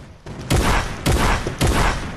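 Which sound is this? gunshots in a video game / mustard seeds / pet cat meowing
gunshots in a video game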